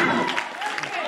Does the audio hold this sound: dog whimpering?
no